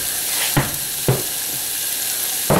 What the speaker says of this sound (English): now that those are sauteed, we're going to add in some brown sugar